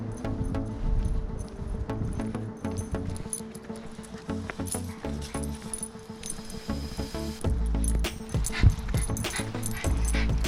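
Puppy named Wrangler whimpering and yipping before a trip to the dog park, short excited cries and jingling over shuffling movement noise, close and fairly loud.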